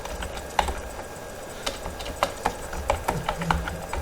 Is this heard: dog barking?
no